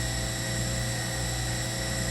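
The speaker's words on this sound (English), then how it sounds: "So I'm going to turn on the spindle first." A Harig Bridgeport 618 EZ-SURF CNC surface grinder spindle runs at steady speed with a quiet, even, continuous whine and hum that holds constant throughout, with no voices.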